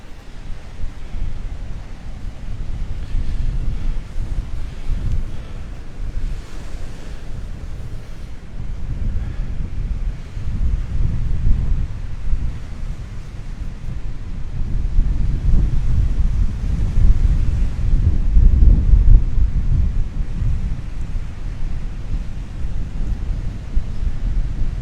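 Ocean waves rolling onto Delnor-Wiggins beach at high tide, a constant roar of surf mixed with heavy wind buffeting, swelling louder toward the end, with no one talking.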